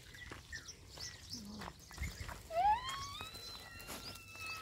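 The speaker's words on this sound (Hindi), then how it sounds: "क्या बोल इनकी चिड़ियों का ये सुनो ना" Birds chirp and whistle in short rising calls, moderately close, in a quiet outdoor setting in the Aravali hills near Gurgaon, with faint rustling.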